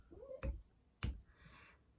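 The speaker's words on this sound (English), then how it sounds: "I'm going to snap my fingers." Two sharp, dry finger snaps about half a second apart, close and fairly quiet against a soft background hush.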